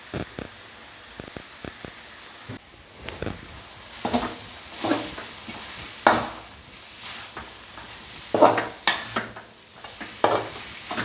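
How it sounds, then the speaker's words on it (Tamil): Chopped chapati pieces stir-fried in a pan with egg for chapati noodles, a soft frying hiss broken by scattered scraping and clattering spatula strokes against the pan, close up and without speech. "இப்போ கட் பண்ணி வச்ச சப்பாத்தியை அதில் போட்டுக்கலாம்."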